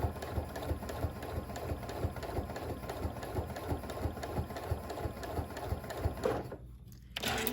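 Sewing machine stitching quilt petals made from charm packs, with a steady, close mechanical whirring and rhythmic needle clatter that runs continuously before briefly dropping off near the end.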